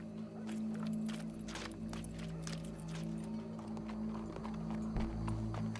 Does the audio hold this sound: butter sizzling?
no